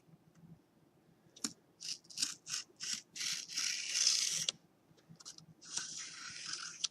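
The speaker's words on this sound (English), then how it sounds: "I let the blade do the cutting." A craft knife blade slices through material in short repeated strokes, crisp scraping cuts in a quick series, close up, with brief pauses between passes.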